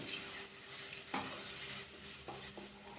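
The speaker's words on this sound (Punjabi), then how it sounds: "ਤਦ ਤੱਕ ਇਹ ਰੰਗ ਨਾ ਛੱਡੇ ਤੱਕ ਮਸਾਲਾ ਭੁੰਨਦੇ ਰਹੋ" Masala spices for a carrot-and-cauliflower kofta curry are stirred and roasted in a pan, with a faint, steady low sizzle broken by a few soft spatula scrapes near the pan.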